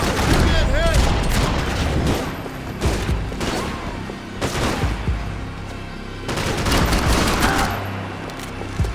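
Dense gunfire from the video game Max Payne 3 crackles in rapid overlapping bursts, loud and close, with booming impacts and brief lulls between volleys.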